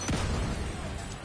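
A grenade detonates in The Division 2 with a sudden, close, heavy boom at the very start, then a rough rumbling decay that fills the short moment, with no voices.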